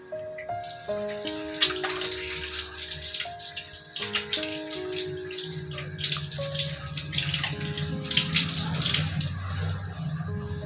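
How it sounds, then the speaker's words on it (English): Hands are washed under a running tap, a steady hiss of flowing water that continues throughout beneath background music. "wash your hands frequently and be safe"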